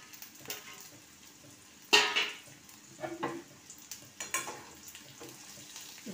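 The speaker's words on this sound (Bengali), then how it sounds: "ভালো করে নেড়ে নিচ্ছি।" Garlic with cumin, coriander, turmeric and chili powder is stirred in a pan for potol pulao. A quiet sizzle runs underneath, broken by a few close, sharp spatula scrapes and clinks.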